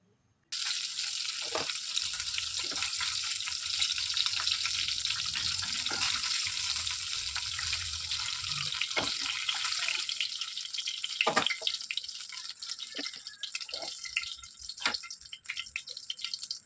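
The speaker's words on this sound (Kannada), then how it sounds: "ಒಂದು ಕ್ಯಾಪ್ಸಿಕಮ್, ಇದನ್ನು ನೀರಲ್ಲಿ ಚೆನ್ನಾಗಿ ತೊಳಿಬೇಕು" A capsicum rinsed under a running kitchen tap, a steady bright stream of water splashing close by for the whole stretch, broken by occasional knocks and splashes as the pepper is turned under the flow.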